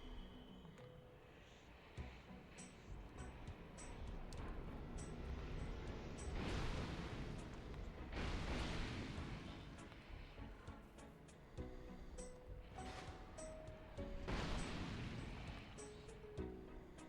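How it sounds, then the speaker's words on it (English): Firework-like explosions are fired in Dark Souls, with loud booming blasts and rumbling bursts that swell and fade repeatedly over a long stretch. Lighter clinks and tones come and go beneath them. "Stop shooting them fireworks, dude."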